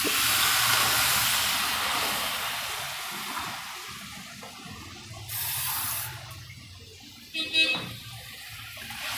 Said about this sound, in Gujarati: હવે આપણે એમાં પાણી નાખીએ